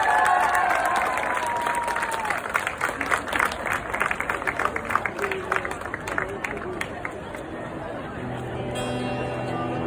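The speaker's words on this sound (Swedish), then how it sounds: "en stor applåd för Jonas Svensson." Enthusiastic applause from an audience at a healthcare protest rally in Stockholm, with scattered cheers and crowd chatter, tapering into rhythmic clapping before fading under music.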